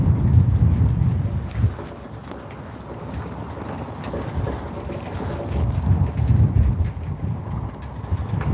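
Wind gusts over the microphone outdoors on the water during bass fishing, a loud low rumbling buffet that swells, eases in the middle, then builds again, with no talking.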